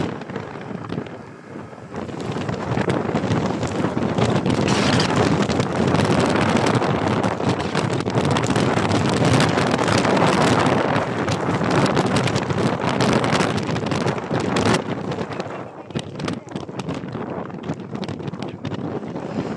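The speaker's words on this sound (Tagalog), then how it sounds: "malakas ang ulan, malakas ang hangin" Strong wind roars and buffets the microphone in heavy rain during a typhoon motorcycle ride on the Infanta and Real loop, a loud dense rush that runs steadily for most of the span before easing near the end.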